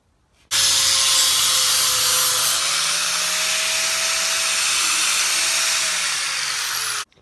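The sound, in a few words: grinder wheel cleaning up metal for a cart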